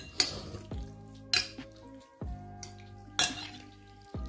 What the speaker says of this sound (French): Muni d'une cuillère. On va venir mélanger tout ça.